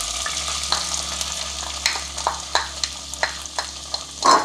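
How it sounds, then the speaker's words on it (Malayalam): Chopped onions fry in butter for a chicken roast, giving a steady close sizzle broken by a string of sharp scraping clicks as they are stirred in the pan. "ഉടനെ തന്നെ നമ്മുടെ സവാള അരിഞ്ഞ് വെച്ചേക്കുന്നത് നല്ല പച്ചമണം മാറാൻ വേണ്ടിയിട്ടാണ് നമ്മൾ ഈ ഇതിപ്പം വെണ്ണയിലോട്ട് ഇടുന്നത്"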